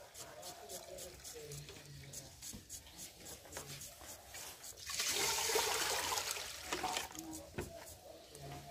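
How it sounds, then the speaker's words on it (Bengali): Rice being washed by hand in water in a village kitchen, with soft sloshing and rinsing that swells into a louder pour of water midway, while someone talks over it. "যে চাল একবার ধুয়ে নেওয়া হলো, আর একবার ধুয়ে নেওয়া হবে ভালো করে।"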